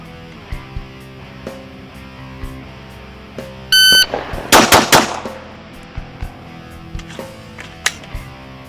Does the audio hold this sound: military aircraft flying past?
no